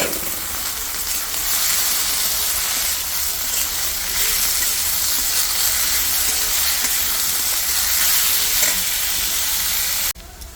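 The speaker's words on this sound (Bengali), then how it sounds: "আলুটা ভাজা ভাজা হয়ে গেছে" Potato pieces frying in oil in a pan while making noodles, a loud, steady close sizzle that runs unbroken for about ten seconds before a brief drop at the end.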